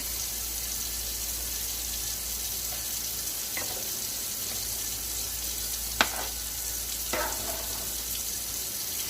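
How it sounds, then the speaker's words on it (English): Spanish yellow rice with beef smoked sausage is stirred in a pot, giving a steady, close simmering hiss broken by a few faint scrapes and one sharp clink of the spoon. "I'm going to give that a stir."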